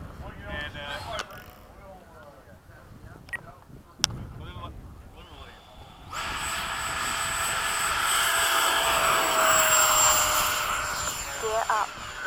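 MiG-21 jet taking off, a broad roaring engine that swells sharply midway and holds loud and steady, preceded by quieter mixed noise and faint voices.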